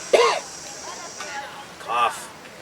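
Two short, throaty coughs sound close up, separated by a pause with faint background murmur.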